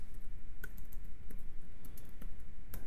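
Rapid, uneven clicking of computer keyboard keys as code is typed, close and steady with brief pauses between bursts of keystrokes, no voices.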